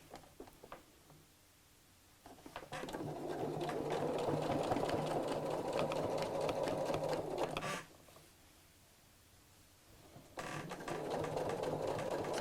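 A sewing machine, run by foot pedal, stitches a bulky rucksack with a steady whirring hum in two long bursts, pausing briefly between them, close and clear with no talk.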